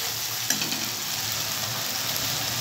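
Bitter gourd sautéing in a pan with oil and a little salt, a loud, dense, continuous sizzle filling the clip with a faint stirring scrape.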